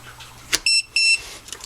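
Two short electronic beeps from a radio transmitter as it powers up, set up for binding a 1SQ helicopter to a DX7, clear and close against a quiet background with a faint click before them.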